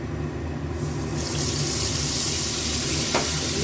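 Ground spices fry in a pan with a steady, close hiss that swells into a louder, continuous sizzle after a moment, with no voices.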